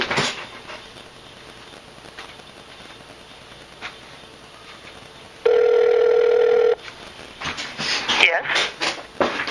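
A telephone gives one sustained electronic ring tone lasting about a second, loud and close. Before and after it, muffled speech and handling noise come through a phone line.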